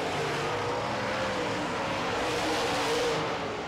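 Late model race cars running around a short track: a steady, dense engine roar from several cars at a distance, a continuous wash of noise with no distinct pass-bys.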